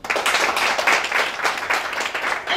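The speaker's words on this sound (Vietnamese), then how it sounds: "Xin một tràng vỗ tay cho điều đấy ạ." Audience applause at a Vietnamese business talk event, dense clapping from a seated crowd, loud and close, sustained over a couple of seconds with slight swells.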